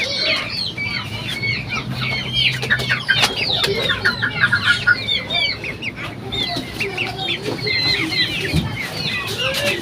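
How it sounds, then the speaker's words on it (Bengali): Chickens, including Fayoumi hens, cluck and chirp steadily around a small farm yard, many birds close by, with low rustling and an occasional faint crow in the mix. "মুরগিগুলো অনেক সুন্দর"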